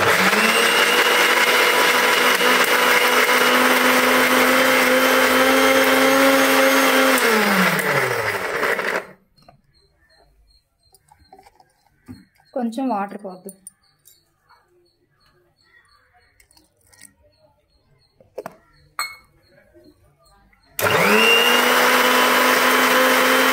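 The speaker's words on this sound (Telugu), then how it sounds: "కొంచెం వాటర్ వేసుకొని మిక్సీ పట్టుకోండి" A mixer grinder blends garlic with a little water in two loud, steady bursts, each spinning down at the end, with a quiet gap between them holding a brief spoken remark and faint clicks.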